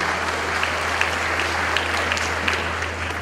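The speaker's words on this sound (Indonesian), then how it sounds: "Kita berikan tepuk tangan untuk dua beliau ini." An audience at a Ma Chung University graduation ceremony claps steadily for several seconds. The applause forms a dense, even wash of hand claps over a low hum, with no voices.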